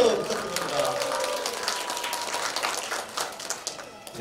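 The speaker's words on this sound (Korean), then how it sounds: "박수 부탁드립니다" Applause from an audience at a volunteer family group's award ceremony, a dense wash of clapping throughout, fairly even and moderately distant, with a few sharper claps near the end.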